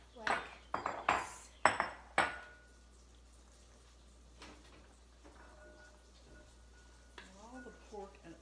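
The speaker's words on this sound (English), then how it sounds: "we're gonna transfer the beans to the bowl" Beans are moved into a bowl in a home kitchen, with several loud clinks of a utensil against dishes at first, then quieter scraping and light rattles.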